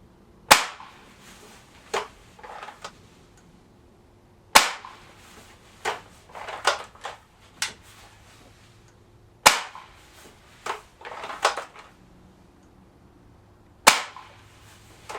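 Four sharp single shots from a compact Norica Goliath 88 spring airgun, each crack followed by a few quieter clicks and thumps of handling, spaced a few seconds apart in a quiet room.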